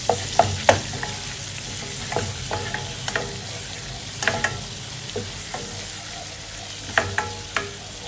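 Garlic frying in a pan, a steady close sizzle punctuated by repeated sharp clicks and scrapes of a utensil stirring against the pan over about eight seconds, with no talking.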